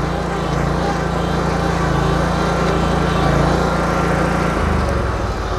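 A zero-turn lawn mower engine runs throttled up in a steady loud droning roar that holds for several seconds, then shifts pitch near the end, with no talking.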